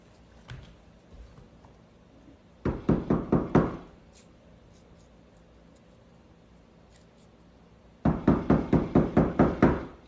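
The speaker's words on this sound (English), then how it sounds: "Why are you knocking on the door?" Two rapid bursts of knocking on a door, each about seven or eight sharp, loud raps, separated by several seconds of quiet room tone with no talking.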